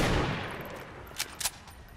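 Video game gunfire from a shooter with armor and a minigun, heard as a dense, noisy wash of shots fading from loud to softer, with two short sharp bursts near the end; no talking.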